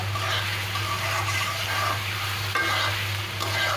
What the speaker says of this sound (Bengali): কষিয়ে নেবো ডিম দিয়ে তারপর আমি অল্প করে একটু ঝোল দিয়ে দিব